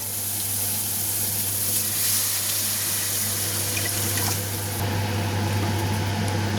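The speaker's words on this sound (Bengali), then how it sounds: "এবার আমি এতে জল দেব।" Water is poured into spice masala frying in oil for a fish curry. A loud, steady rushing pour and hiss runs close and unbroken, with no talking.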